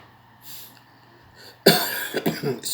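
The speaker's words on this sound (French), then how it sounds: "Je tousse." After a quiet stretch with faint breathing, a few harsh coughs burst out close to the microphone, one after another.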